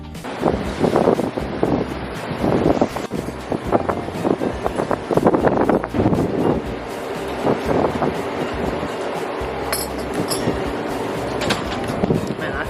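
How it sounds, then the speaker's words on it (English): Strong gusts of wind buffet the microphone outdoors, producing loud irregular rumbling bursts that rise and fall across the whole stretch. "the weather is beautiful, but it's really, really windy"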